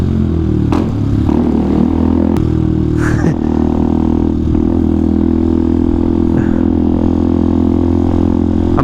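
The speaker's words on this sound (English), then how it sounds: "the works exhaust, which sounds amazing" A small motorcycle, either a Honda Grom or a Benelli TNT 125, fitted with a works exhaust, idles loud and close with a deep steady drone, punctuated by a few sharp revs and clattering mechanical knocks.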